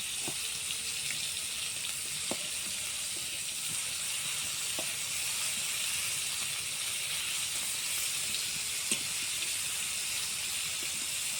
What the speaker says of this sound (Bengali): কড়াই তেল দিয়ে চিংড়ি মাছগুলো নুন হলুদ মাখিয়ে ভাজতে দিয়েছি